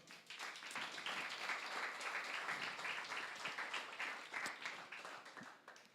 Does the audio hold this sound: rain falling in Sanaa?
no